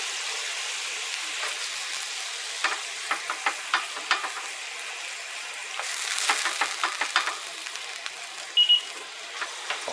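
Lemon juice and butter sizzle in a pan as a sauce reduces, a steady frying hiss broken by stirring scrapes and taps, with a brief louder burst of sizzle midway and a short beep near the end.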